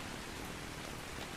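Rain falling in ARK Scorched Earth, a steady even hiss of rainfall, soft and continuous, with no other sounds standing out.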